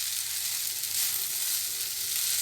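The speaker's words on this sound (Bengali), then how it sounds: "এইভাবে একটু নাড়িয়ে নিলাম।" Sabudana pulao with colourful vegetables stirred in a pan gives a steady, even sizzle with faint scraping, close and continuous, with no voices.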